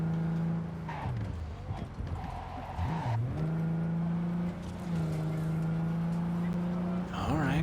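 A car in the video game Cyberpunk 2077 driving and overtaking, its engine droning steadily and rising and falling in pitch through gear shifts, with a voice talking over part of it.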